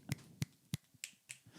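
Several sharp, distinct finger snaps ring out close up in a quiet room, spaced irregularly about a third of a second apart, fading slightly toward the end.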